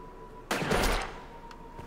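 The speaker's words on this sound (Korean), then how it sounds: "총 쏴보라고?" A single loud burst of gunfire from a weapon in an action video game, a sharp blast that swells and decays over about half a second, with a faint second report shortly after and otherwise quiet.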